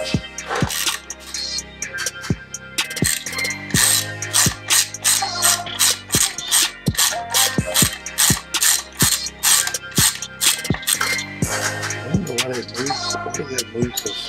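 A hand ratchet clicks out a bolt from a bracket during an air intake install on a vehicle, with repeated close, sharp bursts of pawl clicks in a rhythmic back-and-forth pattern.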